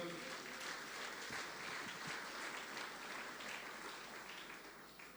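Church congregation at a worship service applauding and cheering the Lord, a dense, steady wash of clapping and voices that stays loud throughout, fading only slightly at the end.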